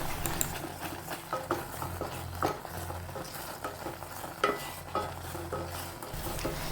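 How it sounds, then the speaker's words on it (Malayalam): Jaggery syrup and banana are stirred together in a pan, a spoon scraping and tapping in a steady rhythm over a soft sizzle, close and fairly quiet, with no voices. "ശർക്കരപ്പാനിയും പഴവും കൂടി നന്നായിട്ടൊന്ന് ഇളക്കി യോജിപ്പിച്ചെടുക്കാം"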